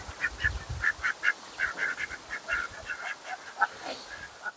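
Domestic ducks in an open-topped coop quack and honk loudly and close by, a busy run of overlapping calls in quick irregular bursts with no talk.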